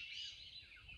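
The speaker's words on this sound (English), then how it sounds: "Well, here we are again with the cacophony of birds." Many birds calling at a flea market, a faint, continuous chorus of high chirps and tweets blending into a steady background wash.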